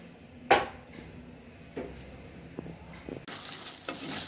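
Prawn thokku cooks in a pan with a faint, steady sizzle, broken by a few utensil clinks and scrapes, then a brighter burst of frying near the end.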